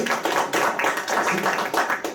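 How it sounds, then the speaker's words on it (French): An audience at a conference in Montreal applauds, a dense pattering of many hands that swells in uneven waves, steady and moderately close. "Je vous demanderai encore une fois, s'il vous plaît, de l'applaudir"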